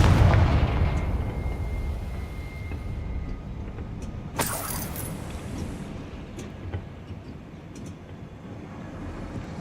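A Confringo fire spell blast in Hogwarts Legacy: a heavy booming impact at the start that decays into a rumbling roar, then a sharp crackling burst midway over a low ambient rumble.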